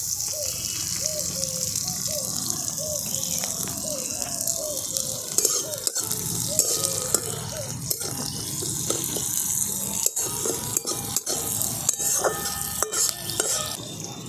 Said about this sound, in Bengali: দেখুন পেঁয়াজ একটু নাড়াচাড়া করে নিয়েছি